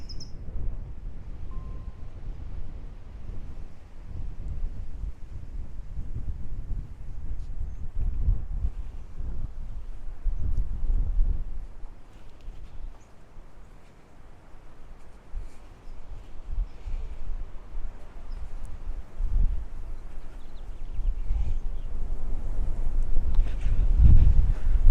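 Wind gusts across an outdoor hilltop at Griffith Park Observatory in Los Angeles on a cold March morning, a steady low rumble buffeting the microphone, louder in places, with no talking.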